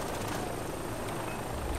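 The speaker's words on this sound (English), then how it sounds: "Where's the helicopter? There's the helicopter." Steady, continuous helicopter rotor and engine drone in the video game Far Cry 3, loud and unbroken with no talk over it.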